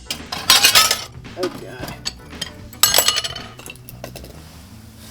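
Glass case shattering in a Mercedes 190E supercharger build, with loud crashing and clinking bursts near the start and again near three seconds, trailing tinkling shards; a voice reacts briefly.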